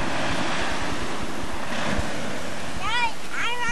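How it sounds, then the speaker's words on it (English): Rough ocean waves crash and wash steadily onto a beach, with heavy wind buffeting the microphone and a voice calling briefly near the end. "Those waves look awful rough."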